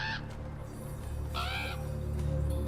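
A bird cawing in the horror game Draugen, two harsh crow-like calls spaced about a second apart over a steady low ambient drone.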